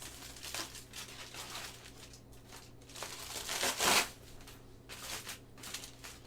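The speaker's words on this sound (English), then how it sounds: "take a piece of foil, any size, and then tear it into 3 sections" Aluminum foil being torn into sections for sculpting, heard as crinkly tearing and rustling bursts at close range, with a louder rip near the middle and no talking.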